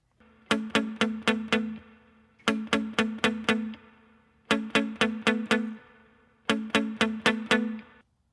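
D: Four bursts of quick strummed guitar chords, each a rapid run of about five strums, separated by short ringing pauses; clear and close with no talking.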